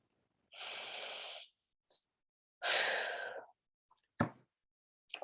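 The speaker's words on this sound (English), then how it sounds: "inhaling deeply" Two long, deep breaths drawn in slowly and audibly, close and clear, with a few small mouth and breath noises between them.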